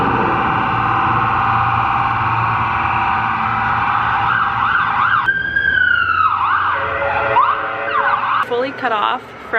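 An emergency vehicle siren wails steadily and loudly during flooding in Abbotsford, British Columbia, then its pitch sweeps and warbles as it passes close by, with traffic noise underneath.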